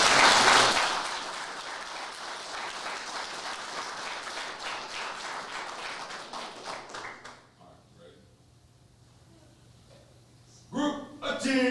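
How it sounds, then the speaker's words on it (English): A crowd at a fire academy graduation ceremony claps for the graduates, a loud burst that holds steady for several seconds and then dies away, followed by a near-silent gap and a few quick close claps. "So I want y'all to give them a round of applause at this time."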